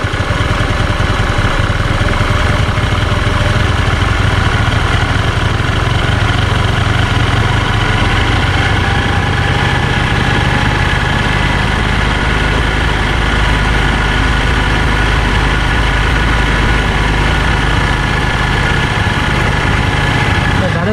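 Honda Dio scooter engine idling steadily throughout while its carburetor is tuned, a continuous loud close-up hum with a faint rise in revs.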